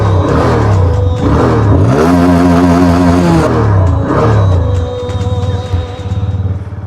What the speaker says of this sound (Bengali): গাড়ি স্টার্ট কর তাড়াতাড়ি।